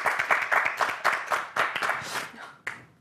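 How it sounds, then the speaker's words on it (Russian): Audience applause at a Christmas evening show in Gomel, with dense clapping that swells and fades in bursts over about three seconds before dying away, fairly close and loud. "Ваши аплодисменты."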